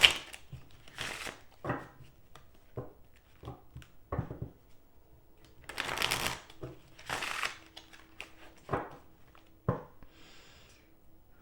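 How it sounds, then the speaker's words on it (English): Soft, close riffling bursts of cards being shuffled, repeated several times with quiet gaps between. "We'll do 2 more shuffles. I'll cut the deck"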